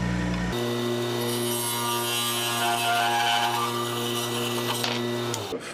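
A pen blank chucked in a lathe being cut: a steady humming motor drone with continuous scraping and cutting noise throughout, close and even, ending abruptly as the lathe stops.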